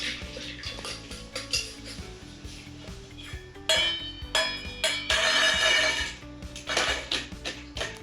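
A lid being set on a toy pressure cooker during children's play, with metallic clinks and clatters of small pots and a louder rattling burst midway, close by with no talk.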